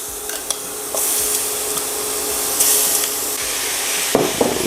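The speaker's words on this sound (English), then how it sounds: "Once it reaches to that toasting point, then we're going to add our oxtail. On medium-high heat." Oxtail sears in toasted curry in a pot over medium-high heat, a steady broad hiss and sizzle throughout, punctuated by a few close knocks and scrapes of a utensil, with no talking.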